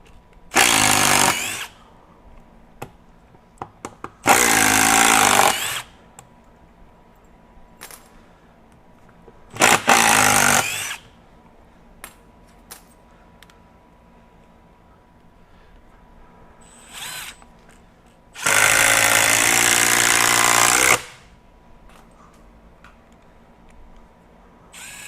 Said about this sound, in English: the 3453 M12 FUEL impact driver, put in the same bit. We'll go into mode 3.